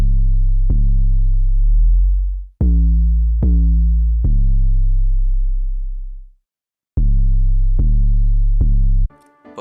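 A deep synth bass line in a rap beat, played dry without any boosting effect: booming sustained low notes with sharp clicky attacks, some gliding downward, played in short phrases with a gap partway through and a brief burst of noise at the very end.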